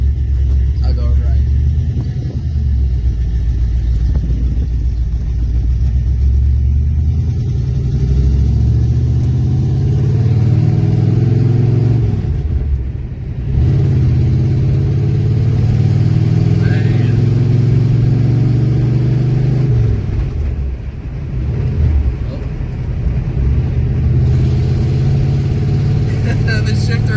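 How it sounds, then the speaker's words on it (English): A 1978 Ford Mustang King Cobra's engine drones steadily from inside the cabin while driving, its low rumble rising and falling with a couple of dips as gears change, with someone talking over it. "Driving a King Cobra, 1978."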